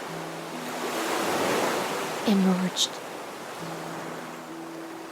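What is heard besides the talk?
ocean waves in the video game Honkai Star Rail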